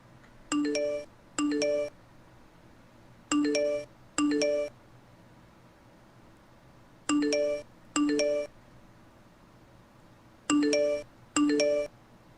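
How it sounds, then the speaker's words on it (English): An email notification chime plays four times, each a pair of bright two-tone dings, spaced with pauses between the pairs, clear and alone without talk. "Well, my notification just popped in."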